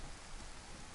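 Steady rain hisses evenly in the DayZ video game in the northwest of Chernarus, a dense unbroken patter filling the moment with no voices.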